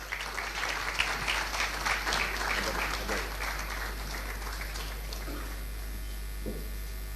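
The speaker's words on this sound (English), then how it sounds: "Please, a round of applause." A ceremony audience claps in a broad round of applause over a constant low electrical hum, the clapping thinning to a few scattered claps toward the end.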